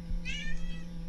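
A cat lets out a single short meow, fairly close, over a steady electronic hum and faint background noise, with no talking.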